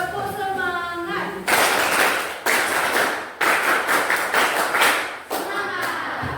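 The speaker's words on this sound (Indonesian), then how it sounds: "Tepuk semangat." A classroom group claps a rhythmic 'tepuk semangat' spirit clap, several loud bursts of many hands clapping together, separated by short pauses with voices chanting between them.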